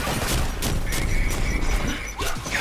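A small black hole launcher fires in the video game Quantum Break, a loud whooshing blast with a warbling drone and crashing impacts over a couple of seconds.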